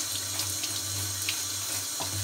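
Tap water runs steadily and continuously while paint stripper is rinsed off, a close, even splashing hiss with no talk.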